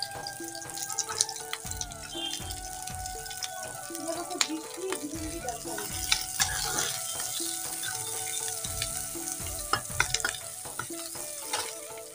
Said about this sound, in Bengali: পেঁয়াজ রসুন কাঁচা লঙ্কা দিয়ে ভাজবো